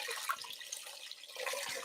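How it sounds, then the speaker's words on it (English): Water pours into a soup pot on a kitchen stove for tortilla soup, a faint, steady splashing and trickle running for a couple of seconds. "we're going to pour in 4 cups of water or salt-free vegetable broth"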